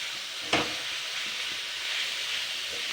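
Boiled vegetables with chopped onion stirred in a hot pan, a sharp scrape of the spatula early on followed by a steady frying sizzle and softer stirring sounds.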